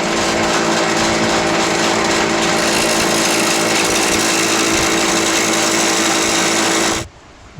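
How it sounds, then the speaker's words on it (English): A spinning Craftsman Model 3263 wobble (adjustable) dado blade on a power tool roars loudly and steadily with a harsh rattling whine, then cuts off abruptly near the end. "Well, you can see that blade is noisy."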